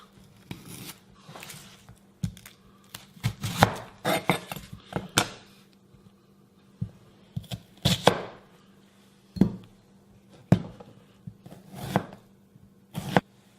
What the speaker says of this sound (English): dice up half a sweet onion.